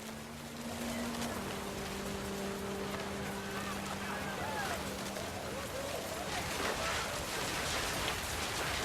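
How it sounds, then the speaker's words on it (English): Heavy rain pours down on a tent in the game What Remains of Edith Finch, a dense steady hiss of drops with low sustained tones underneath while a voice narrates over it. "The rain came down in buckets then"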